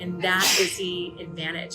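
A single sneeze bursts out mid-sentence, fairly close and loud, briefly interrupting someone speaking; his talk resumes right after.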